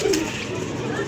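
A pigeon coos softly in a short, low murmur, close by amid steady background noise, with faint talk nearby.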